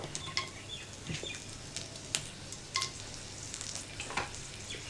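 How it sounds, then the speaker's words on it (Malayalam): Mustard seeds and dried red chillies frying in a pan for Kerala-style ladies finger kichadi, giving a steady soft sizzle with scattered sharp pops and crackles, close and alone. "കടുക് പൊട്ടി തീ സിമ്മിലിടുക"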